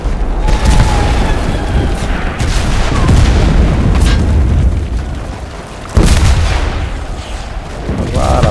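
Heavy booming blasts from tank cannons and artillery ring out in a World War II shooter game, a few loud concussive thuds with rumbling decay over continuous battle noise.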